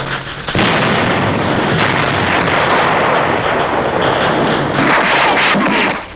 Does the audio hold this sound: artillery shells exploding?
yes